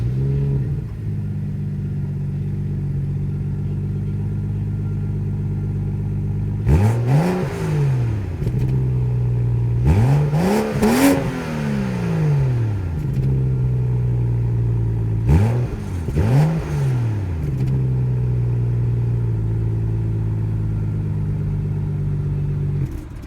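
Cold start of a BMW M235i or M240i engine: a sustained low idle hum broken by several loud rising revs around the middle, each one flaring and settling back, close by with no talking.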